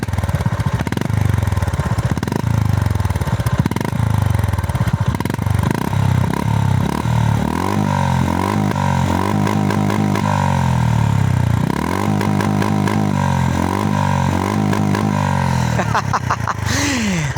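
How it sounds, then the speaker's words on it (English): A 2025 Honda GB 350S single-cylinder motorcycle runs off-road, its engine loud and close with repeated revving surges and a chattering, uneven throttle rhythm across the whole stretch, no talk on top. "You can hear the bike. Let's hear the bike."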